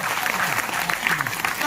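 Applause from the audience at a Hindi comedy poetry gathering (kavi sammelan) in Duliajan, a dense steady clapping that fills the short stretch without a break.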